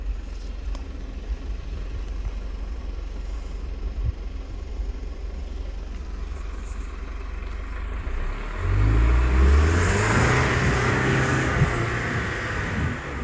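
An off-road vehicle on a rough trail pulls away in first gear; a low steady engine rumble builds into a louder rising surge of revving around the middle, with no speech.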